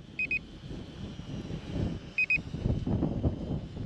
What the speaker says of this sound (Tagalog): Ikot natin si drone.